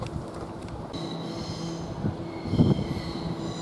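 An Elizabeth line train bound for Shenfield runs through Shenfield station with a steady rumble and low hum, then swells louder with a brief squeal of wheels near the end.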